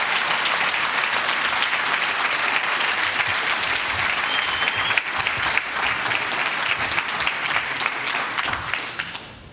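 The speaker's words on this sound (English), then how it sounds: "applause indeed" Conference audience applauds after a talk on low-cost chip microprobing, a sustained, loud wash of many hands clapping in a hall that continues for several seconds before fading at the end.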